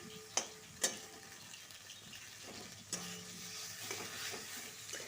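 Tomatoes and spices sauté in a little oil in a pan, a soft, low sizzle with a few sharp clinks of a utensil against the pan, close by and fairly quiet.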